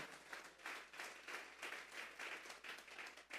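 A church congregation at a Sunday service claps as an offering to God, many hands beating together in a steady, even roll with slight swells, quiet and uniform throughout.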